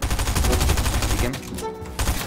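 Rapid bursts of video game gunfire during a duo battle-royale cash tournament match, loud and dense for over a second before cutting out, followed by quieter game ambience and a brief renewed burst near the end.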